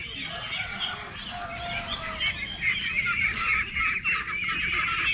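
A flock of ducks emerging near a rice field keeps up continuous honking and quacking calls at moderate distance, overlapping and steady throughout with no talk.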